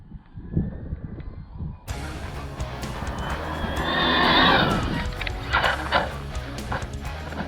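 A high-speed off-road RC car launched at full throttle on a track, its electric motor rising into a loud, shrill whine that peaks as it races past nearby, then fades into rattling and wind buffeting.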